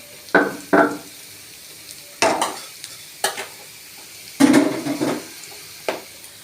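Fish being added to frying onions in a pan, loud bursts of sizzling and spatula scraping arriving in separate strokes with short gaps between them, close up and without speech.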